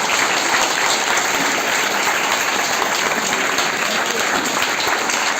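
Sustained applause from a crowd, dense and steady clapping that stays loud from start to finish.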